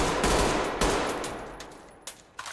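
A rifle in Ready Or Not fires a rapid full-auto burst, loud and close, with the shots tapering into echoing tails and a couple of single shots after.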